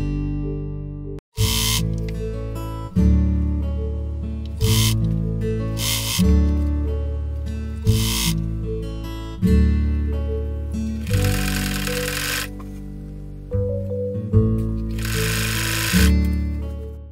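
A zigzag sewing machine stitches a fall onto a saree. The motor hums and whirs through several close, loud runs of stitching, separated by brief pauses. No one speaks.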